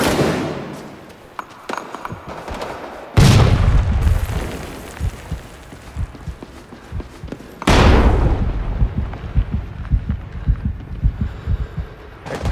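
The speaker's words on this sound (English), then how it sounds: "Grenade!" Two heavy, booming grenade explosions in the Vietnam war shooter Rising Storm 2 go off several seconds apart, each a sudden loud blast that rumbles and decays, over a steady background of battle noise.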